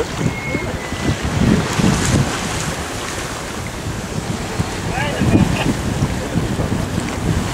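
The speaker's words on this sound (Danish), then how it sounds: "Nu når det er sejlet, der bærer os frem." A sailboat glides under sail with its engine switched off, on a holiday trip in Kenya. Steady wind buffets the microphone over the constant wash of water against the hull, with a few brief, faint creaks and swishes.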